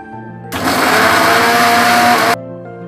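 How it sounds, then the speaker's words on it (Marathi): A kitchen mixer grinder whirs loudly as it grinds garlic, fresh coriander, ginger and green chili into a paste. The steady, high-pitched grinding lasts nearly two seconds, then cuts off abruptly, leaving quieter kitchen background. "हे आता आपण मिक्सरमध्ये वाटून घेऊ"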